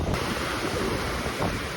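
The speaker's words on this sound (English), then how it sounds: "Little wave action with some nasty looking" Small waves breaking along a windy Pacific bay beach, a continuous rushing surf wash mixed with heavy gusts buffeting the microphone, fairly loud and steady with no voices.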